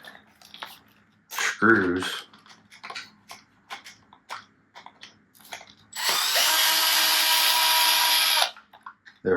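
An electric drill or driver spins for about two and a half seconds, loud and steady, as it removes the screws holding an airsoft gun's cage to its chassis. Short clicks and handling noises come before it, and a voice is heard briefly.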